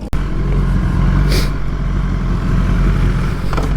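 A Kawasaki ZX10 motorcycle accelerating hard at a drag strip, its engine a loud, steady, close roar after a brief dip at the start.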